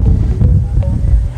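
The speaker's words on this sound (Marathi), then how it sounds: "हवा अशी प्रचंड जोराने चाललेली आहे" Strong wind at Mahiravani Dam batters the microphone with loud, low, buffeting roar, continuous and close, with a voice faintly under it.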